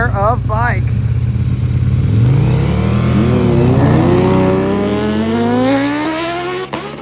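Two motorcycles launching side by side in a drag race, loud engines screaming upward through the revs in a long sustained pull, the pitch rising and wavering before fading slightly at the end.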